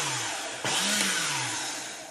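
An automotive starter motor, removed from the vehicle and powered straight from the battery through a push button, whirs steadily with a sharp click as it engages partway through, a loud continuous mechanical drone heard alone.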